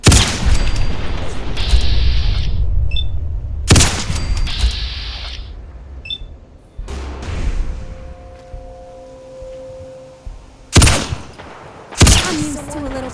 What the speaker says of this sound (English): Alright, I'll shoot him.